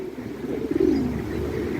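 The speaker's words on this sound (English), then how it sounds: "I remember this pigeon." A pigeon gives a single low, throaty coo, close and fairly loud, swelling briefly in the middle before settling into a soft hum.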